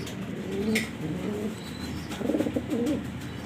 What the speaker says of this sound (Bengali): খুবই সুন্দর আনকমন একটা মিলে কবুতর